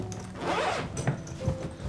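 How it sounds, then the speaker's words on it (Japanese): The side zipper of a 77-litre Delsey Paris expandable suitcase is pulled open in one drawn-out rasping stroke, close up, followed by a couple of soft bumps and handling sounds. "横のジッパーを開ければ"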